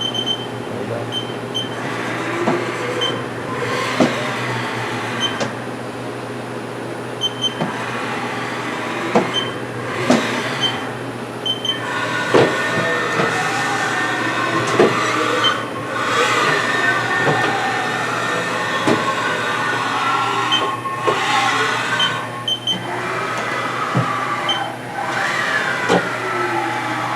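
Haas VF4-D CNC vertical machining center jogging its axes, servo motors whining up and down in pitch as the feed speeds up, over a steady machine hum with intermittent clunks, continuous and fairly loud.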